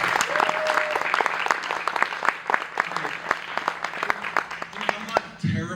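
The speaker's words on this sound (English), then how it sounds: "the one who deserves the most applause is this man right here" Audience applause honoring Gerard at a HopperCon 2024 awards presentation: sustained clapping from a crowd, individual claps audible, with a brief speaking voice partway through and the applause tapering off at the end.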